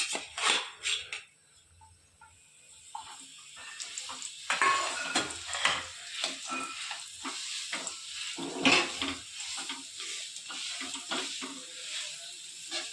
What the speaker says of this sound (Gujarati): આ રીતે થોડીક વાર ખજૂરને આપણે શેકી લેવાનું છે